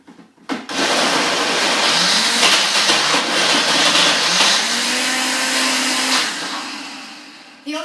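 A kitchen blender grinds dates, cocoa powder, Himalayan salt and coconut, a loud steady whirring motor with a rising pitch as the load shifts, starting abruptly and cutting off near the end.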